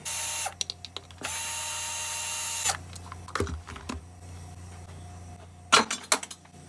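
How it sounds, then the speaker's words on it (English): A tool removes 3/8 bolts from a lawnmower engine's valve plate, heard as short bursts of whirring and clicking up close, separated by quiet gaps and small metallic handling noises. "Got a couple of 3/8 bolts to remove off this valve plate."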